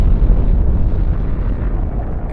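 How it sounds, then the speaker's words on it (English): A loud, deep rumbling explosion sound effect, a continuous booming roar of low-end noise that holds steady for a couple of seconds without a distinct onset. "suddenly the sounds of atoms tearing apart reaches your ears"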